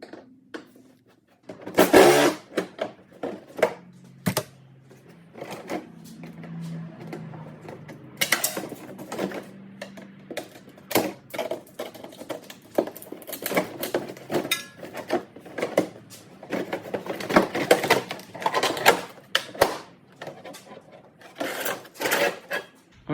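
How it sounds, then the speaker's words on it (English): A fender liner is pried off a 2014-18 Honda Pilot 3.5 during timing belt work. Scattered sharp plastic clicks, pops and rattles come close up over a faint background hum, and nobody speaks. "I'm going to go ahead and take off this fender liner"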